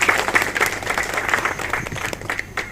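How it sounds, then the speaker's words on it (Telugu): A crowd claps together at the reopening of a government primary school that had been closed for 14 years. The applause is steady, dense and fairly close, with no one speaking over it. "మన అందరం కూడా గట్టిగా చప్పట్లతోనే అభినందించాలి."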